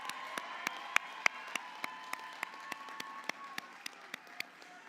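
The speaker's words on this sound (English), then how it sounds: "stand again for a round of applause" Applause from a university graduation audience after a speech, heard as sparse, distinct claps spaced through the clip over a quiet hall, moderately faint and fairly distant.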